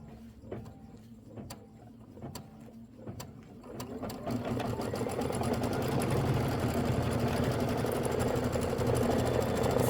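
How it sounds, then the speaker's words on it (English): An embroidery sewing machine stitches a satin outline on a quilt block's handle, starting with sparse clicks and then settling into a steady, loud, close mechanical whirring rhythm with no talk. "now it says stitch the handle satin outline"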